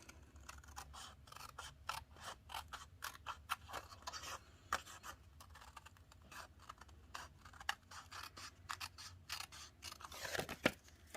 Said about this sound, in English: Then I will take my snips and I'm just going to cut along the flap of the envelope.